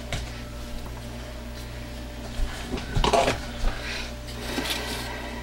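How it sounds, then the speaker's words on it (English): Soap colorants being mixed in small containers, with faint clinks and scrapes of utensils against plastic or glass, clustered in a short busy burst amid quiet room tone. "We're mixing colors down here."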